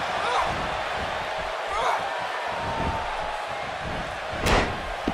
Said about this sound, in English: And she slams her back down.